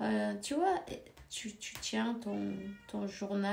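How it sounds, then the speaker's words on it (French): A cat in heat yowls and meows repeatedly, close and loud, its drawn-out cries overlapping with someone speaking. "Je sais qu'il y a un chat, c'est le chat de ma fille."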